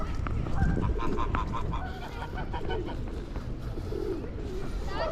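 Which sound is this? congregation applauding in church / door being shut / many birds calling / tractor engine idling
many birds calling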